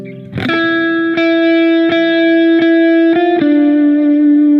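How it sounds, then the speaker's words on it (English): An electric guitar plays a few sustained notes through distortion and reverb, each struck note ringing long and bright, loud and close. "now we're in the guitar solo. It sounds like this."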